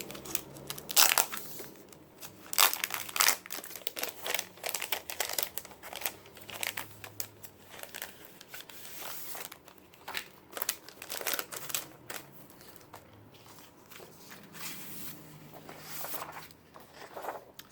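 Sheets of vellum paper being handled and shuffled, a series of sharp, irregular crinkles and rustles over many seconds, close and fairly quiet, with no talking.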